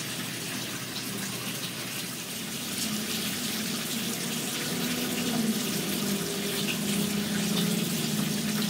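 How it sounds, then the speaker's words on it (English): Water flows continuously at a spa in Brea Mall, a steady rushing splash like a running tap that grows slightly fuller partway through, with faint background noise beneath. "Alright, just look at the water. Really soothing."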